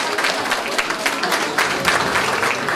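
A hall full of people claps steadily during an awards ceremony at a community cultural centre charity finale, giving dense, even applause with scattered sharper claps throughout.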